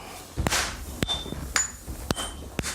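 Apprentices swing huge hammers onto red-hot iron while forging a samurai sword at a rustic Kamakura workshop, giving five sharp, evenly spaced ringing clangs about half a second apart, close and loud.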